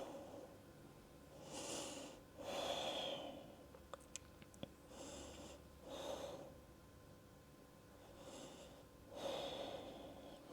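Slow, deep breaths during a yoga pose in a quiet room, soft airy inhales and exhales repeating in a steady rhythm about every three seconds, close and faint, with a few light clicks in between.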